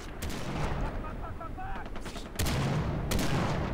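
Sniper rifle fire in Far Cry 3 co-op play, a slow-reloading, weak bolt-action gun: sharp loud shots strike around the two-and-a-half and three-second marks over dense battle noise and faint chatter.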